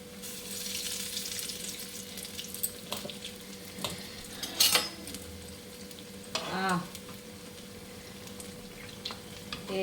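Black-eyed pea garelu fry in hot oil with a continuous crackling sizzle, punctuated by a few louder bursts and clinks as the fritters are moved, heard close up with no talking.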